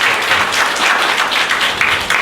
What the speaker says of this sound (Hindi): क्या ताली बजाकर हम परमेश्वर को धन्यवाद देते